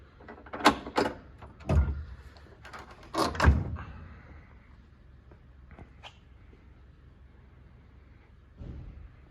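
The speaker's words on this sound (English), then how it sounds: "Kick down the rear tailgate." Rear tailgate of a 1990 Land Rover Defender 110 being kicked down: a series of loud metallic clunks and rattles in the first few seconds, then quieter knocks and one final thud.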